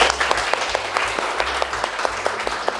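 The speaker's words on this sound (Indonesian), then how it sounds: "Beri tepuk tangan yang meriah Bapak Ibu." Audience applause at an Indonesian teachers' talk event, a steady wash of clapping with faint sharper claps recurring across the short stretch, moderately loud and without voices.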